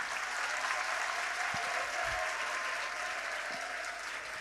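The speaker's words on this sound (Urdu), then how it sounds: "آپ سب کے لیے بھرپور تالیاں ہونی چاہیے۔" Steady, dense applause fills a packed auditorium at an Urdu literary conference, holding at an even level throughout with a couple of low thumps underneath.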